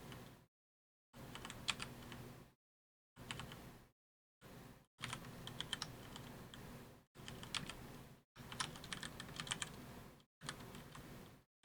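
Rapid typing on a regular computer keyboard in bursts, dense clicking keystrokes separated by brief silent gaps, close and fairly quiet with no talking.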